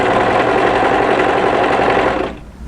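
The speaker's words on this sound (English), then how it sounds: "So what I'm going to do is just stretch this and sew it" A sewing machine runs continuously while stitching a stretched band onto a pleated maxi wrap dress, a loud, fast, even buzz that stops abruptly near the end, with no talk.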